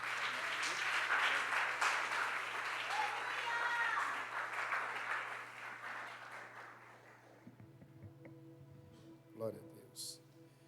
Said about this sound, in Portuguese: e a igreja aplaude ao Senhor.